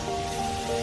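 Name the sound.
rain falling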